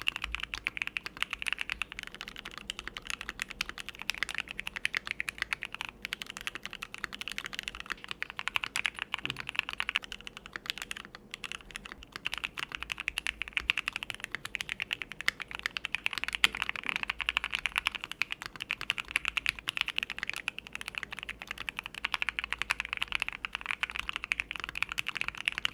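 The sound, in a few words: typing on modded Keychron Q1 mechanical keyboard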